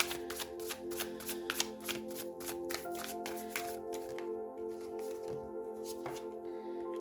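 Tarot cards shuffled and handled during a reading, a steady run of crisp riffling taps and soft slaps close by, thinning toward the end with a few separate card snaps.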